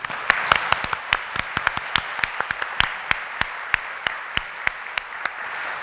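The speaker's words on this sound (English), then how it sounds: "we should applaud our panel" A sparse conference audience claps steadily for a panel at an EU Baltic Sea Region plenary session, individual hand claps distinct and irregular, continuing evenly throughout without voices.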